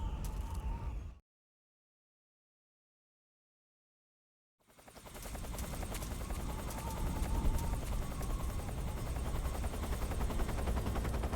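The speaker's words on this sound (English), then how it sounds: "I killed that helicopter." A helicopter beats overhead amid rattling bursts of gunfire in Metal Gear Solid 3: Subsistence; after a brief break to silence, loud dense rotor noise and shots return and continue steadily.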